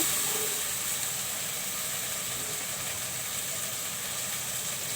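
Beef is poured into a pan of fried spices, followed by a steady, close sizzling hiss that holds at an even level throughout.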